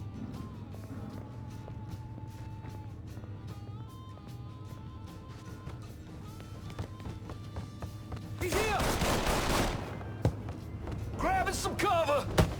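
Gunfire in the video game Mafia 3 breaks out as a loud, dense volley of shots and crashes in the second half, following game music and voices; people talk throughout.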